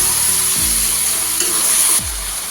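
Onion masala is stirred into goat head curry in a hot pan, with loud, steady sizzling and scraping from a spoon moving through the thick mixture, close and continuous.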